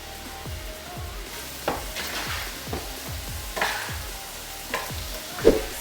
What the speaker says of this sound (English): I'm going to take my spatula and just stir it in a little bit